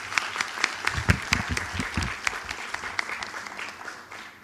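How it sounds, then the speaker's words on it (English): A room of conference attendees, gathered for the UN Academic Impact Korea research paper competition, breaks into warm applause for an opening speaker. The clapping is dense and sustained, with sharp individual claps standing out before it slowly thins. "Please give him a warm round of applause."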